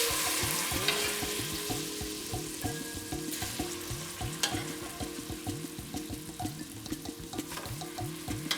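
Vegetables fry in melted butter in a pan, giving a steady close sizzle with rhythmic crackling bursts throughout and no talking.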